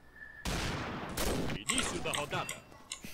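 Gunshots in the online shooter Combat Arms, a dense burst of firing that is partly masked by a player's voice talking over it.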